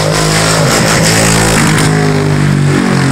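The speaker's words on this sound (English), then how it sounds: "You got a four wheel coming through." A four-wheeler ATV roars past nearby, its engine loud and rough, revving briefly before the sound begins to ease.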